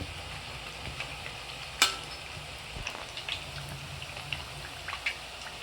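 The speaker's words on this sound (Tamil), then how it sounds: "இந்த சலசலப்புலாம் அடங்கினாவே வெந்துச்சுன்னு அர்த்தம்" Thattai rice-flour dough frying in hot oil, a soft, fairly faint bubbling sizzle with scattered small pops and one sharper crackle early on, steady throughout without voices.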